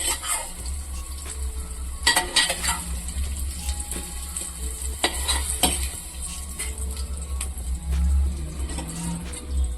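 Paneer frying in oil in a kadai, a continuous sizzle broken by intermittent scrapes and clinks of a stirring spoon against the metal pan, close and moderately loud.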